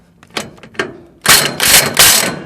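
A socket wrench tightens a bolt on a trailer during start-of-season maintenance, with a few soft clicks and then loud, close bursts of ratcheting rasp.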